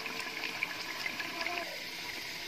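Water is poured into masala frying in a pan for besan curry, giving a steady soft gush with faint sizzle, close and even throughout, with no talking.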